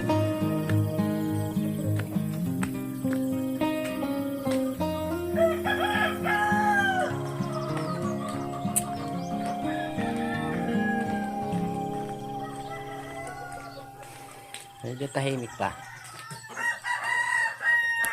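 Chickens cluck and a rooster crows loudly nearby, with several crowing calls rising and falling; a voice briefly speaks near the end.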